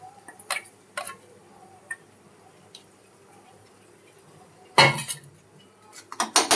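A metal spoon clinks and scrapes against a pan while masala is added to chicken curry made with Beldanga green chilli: a few sparse taps early on, then a louder clatter of stirring toward the end.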